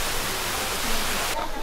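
A waterfall at a Thai temple on a hilltop gives off a steady, broadband rushing hiss that fills the scene. It drops off sharply near the end of the short stretch.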